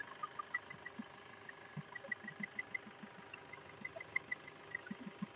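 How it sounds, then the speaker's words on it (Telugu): A 2016 Maruti Suzuki Vitara Brezza ZDi+ diesel engine idles quietly, its soft rhythmic clatter ticking evenly in the background with no voices. "ఇంజన్ కూడా చాలా అంటే చాలా స్మూత్గా ఉంది"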